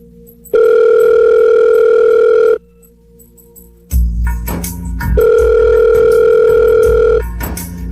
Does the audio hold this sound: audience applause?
no